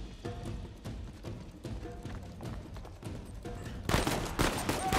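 Shotgun and other gunfire in the game Uncharted 4, rapid irregular bursts of shots through a noisy firefight, growing louder and denser near the end.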